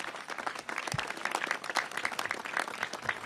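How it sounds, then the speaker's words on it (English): Steady applause from a seated audience at a mayoral office-opening event, many hands clapping densely and continuously for about three seconds with no pauses. "Give them a big round of applause."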